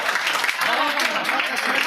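Steady applause from an audience at a Hindi poetry recital, a dense, even wash of clapping sustained throughout without pause.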